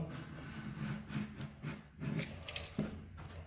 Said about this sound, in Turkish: Şimdi fazlalıklarını tıraşlayacağız kenarlarından.